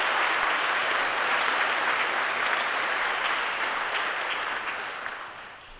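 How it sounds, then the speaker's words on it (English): Audience applause at an army Expert Infantry Badge pinning ceremony, a thick, even roar of many hands clapping that holds steady and then tapers off near the end. "Round of applause"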